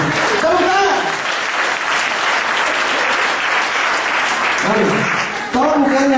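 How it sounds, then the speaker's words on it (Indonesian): Congregation applause at a church gathering, steady loud clapping filling the room for about five seconds, with bursts of speech breaking through near the start and end. "Tepuk tangan."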